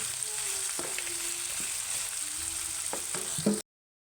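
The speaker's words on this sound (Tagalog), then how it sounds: "nagisa na natin yung kamatis" Tomatoes sauté in a hot pan, a steady close sizzle with a few scraping stirs and clinks before the sound cuts off abruptly.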